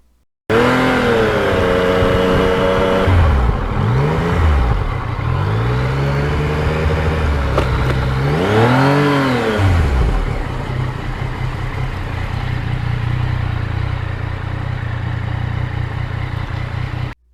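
A Yamaha MT-09 motorcycle on a ride, its engine revving up and down through rising and falling pitch sweeps, then holding a steady cruising drone, loud and close with wind rush.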